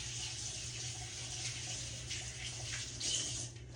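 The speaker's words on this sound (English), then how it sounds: "Let me rinse my hands off." Tap water runs steadily into a kitchen sink while hands are rinsed, a soft continuous splashing hiss with slight fluctuations, fairly quiet and alone.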